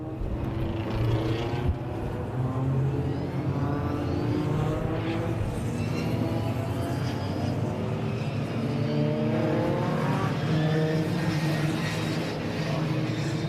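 MG Metro race cars pulling away together at a rolling start on a circuit, a loud continuous blend of engines revving and rising in pitch, steady and close throughout.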